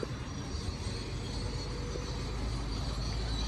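Amusement park train ride at a mountain resort near Erbil in Kurdistan, a steady rolling rumble of rail cars with faint wheel noise, continuous and moderately distant throughout.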